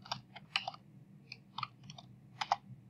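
Soft, quiet key clicks tapped on a computer keyboard while entering a user's name, coming in a few short irregular bursts with brief pauses between them.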